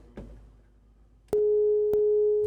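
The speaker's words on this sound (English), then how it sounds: "you can see the filter is producing a pretty clean sine wave" A Behringer 2600 synthesizer filter pushed into self-oscillation rings out a steady, clean sine tone that starts abruptly partway through. A couple of sharp clicks come before it and another lands during it, with no talk.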